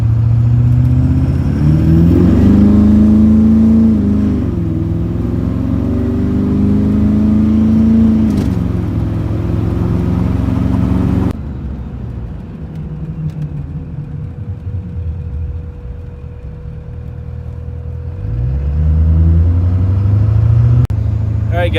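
A 2011 Duramax diesel truck drives along with a steady low engine drone that rises and falls as it accelerates. The engine note stays loud and continuous for about twenty seconds.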